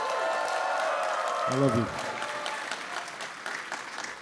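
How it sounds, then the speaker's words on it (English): Crowd applause at a mayoral election victory celebration, loud sustained clapping and cheering from a packed room, with a brief voice cutting through partway before the clapping carries on. "Give them, please, a round of applause."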